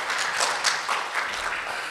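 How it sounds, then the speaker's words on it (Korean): A hall audience at a research-data policy workshop claps to welcome a presenter, giving a continuous crisp wash of many hands at moderate loudness with no talk over it. "박수로 맞이해 주시기 바랍니다."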